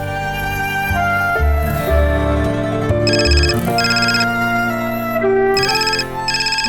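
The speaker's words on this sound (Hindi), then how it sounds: "देखो किसका फोन है।" A mobile phone ringtone plays loudly in a home during an engagement preparation scene from an Indian TV serial, a bright repeating electronic melody with layered beeping tones over a low musical bed.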